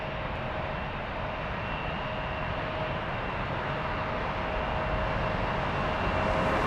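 An airliner departing Frankfurt on a long-haul flight to Sao Paulo gives off a steady, distant jet roar, moderately faint and unbroken, slowly building with no voices.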